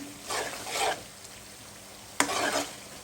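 Potatoes and spiced chicken are stir-fried in a pan: two short bursts of scraping and sizzling as the spatula moves, separated by a quieter stretch.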